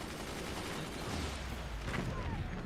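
Rapid sniper gunfire crackles in the Forts RTS strategy game, dense overlapping shots and distant booms forming a continuous noisy barrage at steady loudness, with faint voices mixed underneath.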